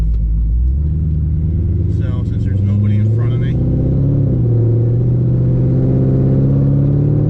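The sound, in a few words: C5 Corvette driving on the road during brake bedding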